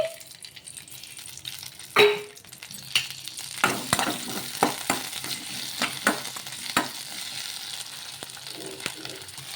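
Green chillies, onion and tomato sauté in oil in a kadai with a steady close sizzle, broken by sharp stirring clinks and scrapes of a spoon against the pan.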